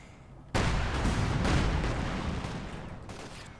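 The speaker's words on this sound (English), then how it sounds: "We're taking small arms fire." Heavy gunfire and explosions in the World War II strategy game Company of Heroes 2 erupt abruptly after a short quiet moment, forming a dense, loud, sustained wash of small arms fire and blasts that slowly fades.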